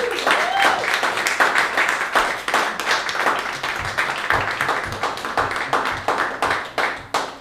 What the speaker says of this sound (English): Give yourself applause for that second.